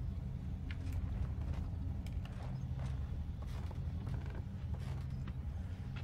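A squeaky floorboard creaks in Little Nightmares, with repeated short wooden creaks and knocks over a constant low ambient hum.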